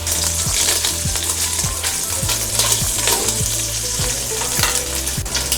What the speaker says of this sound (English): All right, guys, our bacon is cooked up.